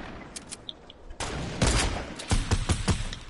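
Sniper rifle fire in the Fortnite video game: a few sharp, loud gunshot bursts ring out in quick succession over a busy game soundscape, with no talking.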